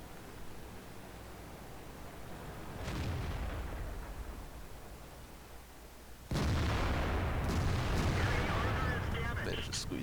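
Tank guns firing in World of Tanks during a match with a Conqueror against IS-6 and M46 tanks: two heavy booming blasts, one softer around three seconds and a louder, sharper one near six seconds, over steady engine rumble.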